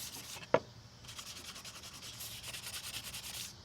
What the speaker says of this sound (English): I hit it with a little sandpaper here, just to smooth it out.